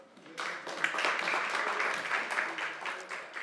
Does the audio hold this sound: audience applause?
yes